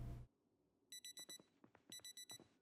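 Alarm clock ringing in the video game Project Zomboid: two bursts of rapid, bright electronic beeps, about four pulses each, loud and close, following a short low thump at the start.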